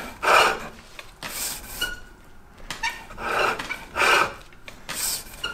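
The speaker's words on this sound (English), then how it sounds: "We're going to use that short corner and roll it down into that dip." A skew chisel rolls a bead cut into spinning wood on a lathe, producing repeated loud, rasping scrapes in bursts of roughly half a second, each followed by a quieter pause.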